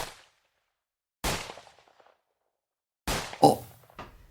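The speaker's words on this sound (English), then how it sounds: "Were those gunshots?" Gunshots in an audio drama, likely from a pistol: three sharp, loud cracks spaced apart with fading echoes, the last two close together near the end.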